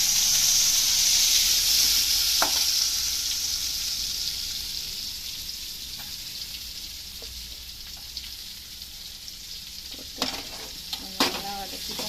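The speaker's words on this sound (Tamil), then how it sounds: "நல்லா வதக்கிட்டோம்." Greens frying in a pan with crushed garlic, dried chili and onion, giving a steady loud sizzle with a few faint clicks of stirring utensils, no talking.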